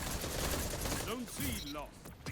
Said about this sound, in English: There's a 3-shot pulse.